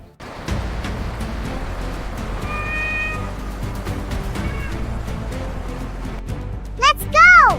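Cartoon-style cat meows ring out over music and background sound, with a loud, sweeping caterwaul near the end; voices talk through parts of it.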